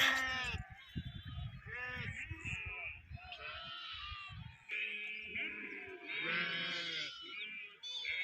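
Bleating from a flock of sheep and lambs at evening lambing time, many wavering calls from different animals layered almost continuously, near and fairly loud, with a person talking among them.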